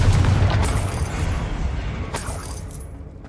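A fire spell explosion in the video game Hogwarts Legacy: one deep booming blast with a crackling burst that decays over a few seconds, heard alone.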